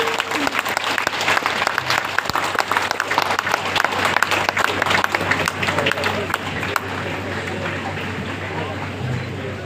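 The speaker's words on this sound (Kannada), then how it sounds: "ಅವರಿಗೆ ನಿಮ್ಮೆಲ್ಲರ ಜೋರಾದ ಚಪ್ಪಾಳೆ ಬೇಕು." Loud, dense applause from a large audience at a World Environment Day tree-planting program, sustained for nearly ten seconds and tapering slightly toward the end, with faint crowd voices mixed in.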